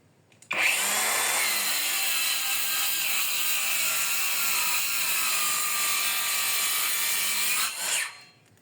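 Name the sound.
MOLLAR cordless circular saw cutting wood at highest RPM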